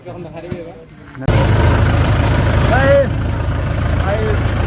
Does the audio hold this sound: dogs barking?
no